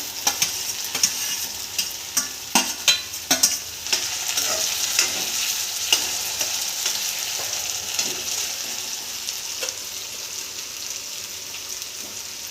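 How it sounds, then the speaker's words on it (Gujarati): Chopped tomatoes sizzle in a pan with partly cooked potatoes while a spoon scrapes and stirs, giving a string of sharp clicks and scrapes in the first few seconds over a steady frying hiss. "તો આપણે હવે આમાં ટમેટાં નાખીશું"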